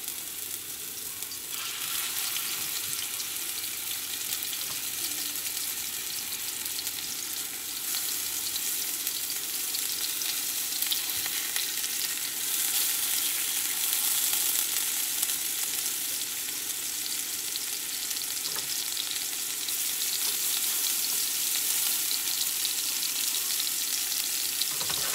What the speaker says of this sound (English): Our olive oil has heated up, so I'm just gonna add my patties.